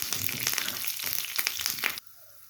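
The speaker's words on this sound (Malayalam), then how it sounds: "അതിൽ പച്ചമുളകും ഒരു ഗാർലിക്കിൽ ഇട്ട് കൊടുക്കുക." Green chillies and garlic frying in hot ghee give a loud, dense crackling sizzle up close, which cuts off abruptly near the end and leaves a quiet background.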